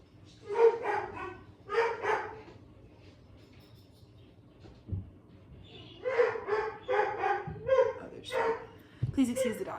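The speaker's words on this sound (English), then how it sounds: "please excuse the dogs." Dogs barking indoors in several bursts of loud, close yaps and barks, with pauses between and a person talking in between.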